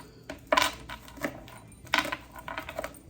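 A knife cutting fresh basil leaves on a board: a few crisp, uneven chopping knocks with light clattery contact, close and fairly quiet, with no talking.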